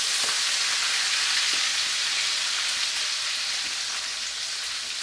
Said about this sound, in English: When you're sizzling exceedingly hot oils, like that,